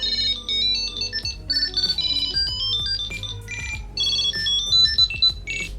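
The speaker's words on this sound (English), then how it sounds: "Try finding your tile. Tap find to ring your tile." A Tile Essentials Bluetooth tracker rings with a bright, chirpy melodic ringtone that repeats steadily for several seconds, loud and alone.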